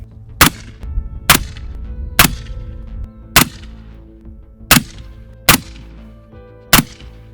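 Rifle chambered in 300 Blackout fired on an outdoor range, seven loud, sharp reports spaced roughly a second apart, each with a brief decaying echo.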